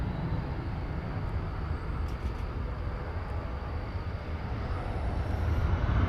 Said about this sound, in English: And there's the flight to Auckland